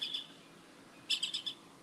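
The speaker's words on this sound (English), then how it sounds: "I don't know if you guys can hear the birds." Faint, thin bird chirps sound in the distance before sunrise in the beach town of Sayulita, Mexico: a short call at the start, then a quick run of four tweets, over quiet background hiss.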